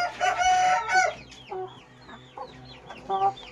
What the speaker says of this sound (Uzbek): Mana bu jo'jalar.